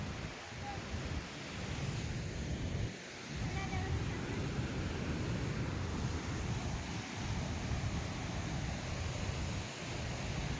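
A loud, steady roar of a rushing, swollen river fills the whole clip, broad and unbroken, with slight swells in intensity.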